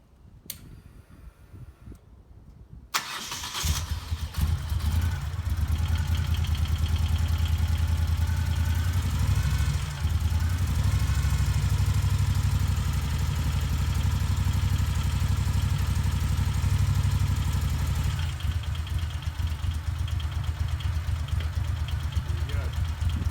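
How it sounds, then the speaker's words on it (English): A Moto Guzzi motorcycle engine catches after a few quiet seconds, then settles into a loud, steady, low idle with a ticking mechanical rhythm that runs close by for the rest of the clip. "so now we're ready to start the bike up"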